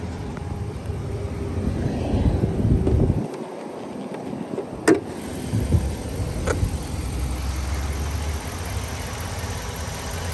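A 2016 Ram 1500 pickup's V8 Hemi engine idles steadily under the open hood, a low continuous rumble with a couple of brief clicks and no talking.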